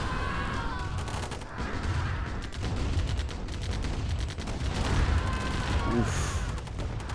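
Minigunner infantry fire and artillery blasts from Command & Conquer: Tiberian Dawn, dense overlapping rapid gunfire with booms throughout, and a brief voiced exclamation near the end.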